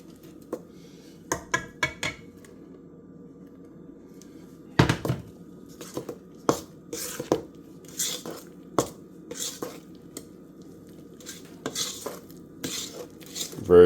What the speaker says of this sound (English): Add my dry ingredients to my wet ingredients.